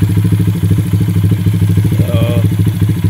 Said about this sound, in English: Okay, and she is idling